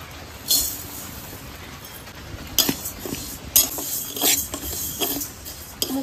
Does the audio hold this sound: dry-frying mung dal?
yes